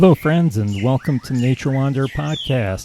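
Birds sing outdoors in the Belize countryside, their chirps and calls faint in the background beneath someone talking steadily up close.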